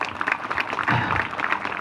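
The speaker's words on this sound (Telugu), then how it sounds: "ఒకసారి వాళ్ళందరికీ మీ చప్పట్లతో" An audience applauds Veda school students at a gathering in Muktyala village, Krishna district, a steady wash of many hands clapping, moderately loud and continuous.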